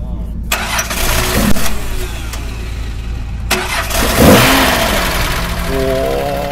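A 1970s Nissan Skyline 2000GT (Kenmeri) in 240K specification, with 7,000 km on it, cranks, catches and fires up with a throaty rev before settling, with people talking nearby at an indoor show venue.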